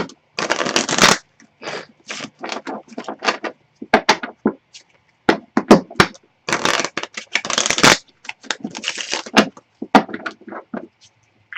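Tarot cards are shuffled by hand in repeated crisp riffling bursts separated by short pauses, close and fairly loud, with no talking over them.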